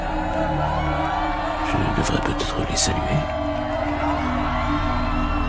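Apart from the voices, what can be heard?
crowd cheering and applauding in an audio drama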